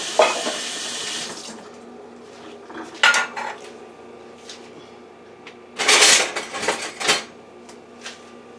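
Water running from a tap into a measuring cup, 3.5 cups, with clinking of dishes and cutlery in short bursts around it.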